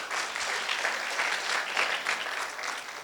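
Steady audience applause at an Indonesian seminar and talk show, a dense, even patter of many hands sustained for a few seconds without voices.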